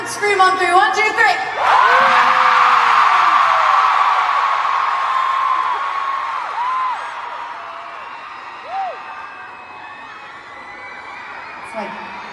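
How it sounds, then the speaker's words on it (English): A live pop-show audience screams together on cue, a sudden loud burst of crowd shrieks and cheers that swells and then slowly fades, with a few voices speaking before and after. "Everyone scream on 3."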